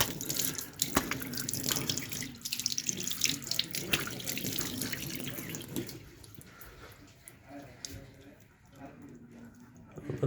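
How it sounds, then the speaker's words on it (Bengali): Tap water gushes steadily into a sink during a morning face wash, close and splashy, with the flow easing and softening toward the end. "একটু মুখটা ধুয়ে নিই।"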